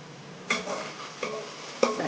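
A utensil stirs turmeric into ginger-garlic paste in a pan with a soft sizzle underneath, giving three distinct scraping clinks spaced roughly evenly apart, close and fairly quiet.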